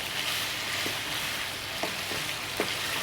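Shrimp and vegetables sautéing in a pan for a Bangladeshi-style Chinese dish, a dense, even sizzle filling the clip with a few faint stirring clicks underneath.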